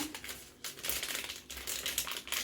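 Crinkling plastic packet of Dr. Oetker lemon cake flour mix being opened and handled, loud close rustles in several bursts with short pauses between, no voice.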